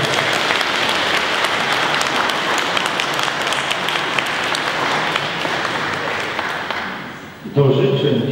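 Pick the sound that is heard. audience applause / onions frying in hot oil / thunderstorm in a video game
audience applause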